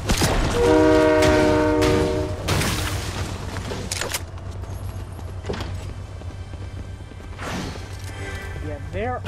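A train horn in the Fortnite video game sounds a loud, sustained chord for about two seconds at the start, then fades under game sounds and voices talking.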